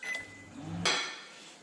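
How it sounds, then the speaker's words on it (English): A microwave oven running with potatoes in a bowl of water, a close, steady low hum followed by a sharp click or clunk near the end, with no talking. "we'll whack them in the microwave"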